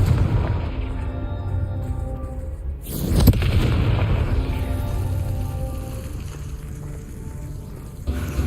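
A Confringo fire spell bursts with a loud booming explosion in the game Hogwarts Legacy, a single blast partway through that sits over a steady rumbling background and decays into a long roar.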